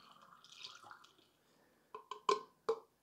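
Homemade kombucha poured back into cleaned bottles: a soft trickle of liquid followed by a few distinct splashy glugs and drips near the end.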